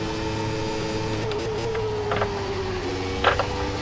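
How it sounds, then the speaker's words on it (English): A 1993 McLaren MP4/8 Formula 1 car in the rFactor 2 racing game gives a loud, steady, high engine whine with slight pitch shifts and brief bursts as it moves up through the gears. "Shifting through the gears up to the 6th"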